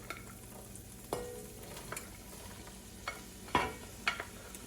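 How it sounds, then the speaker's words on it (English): Celery, carrots, onion and thyme sauté in melted butter in a pot, giving a soft, steady sizzle broken by a few sharp scrapes and clinks of a stirring utensil, close and without talk. "I have a couple stalks of celery, a couple carrots, an onion, and some thyme, and I'm gonna dump it in here as soon as the butter is melted"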